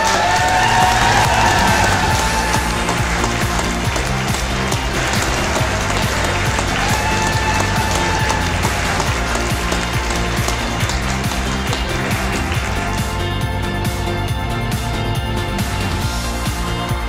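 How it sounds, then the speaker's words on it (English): A large audience applauds and cheers loudly for an award winner at the North Ayrshire Achieves Awards 2019, with a dense, steady wash of clapping and shouts that holds for the whole stretch. "Applause for all the finalists, all the winners."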